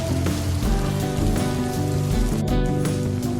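Heavy rain pours onto the metal sheet roof of a house in a steady, loud, dense roar that continues without a break and with no voices over it.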